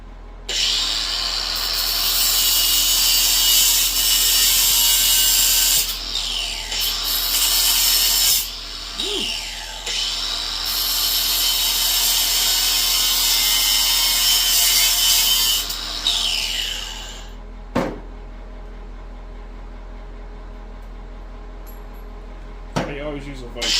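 Sawing through a car fender on a Monte Carlo repair, a loud harsh continuous power-saw rasp in several long runs, then quieter metal handling and clanks, with talking in between.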